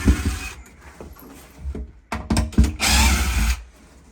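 A power drill backs screws out of a CNC window cupola, whirring in several short bursts of varying length with brief pauses between them, close and fairly loud.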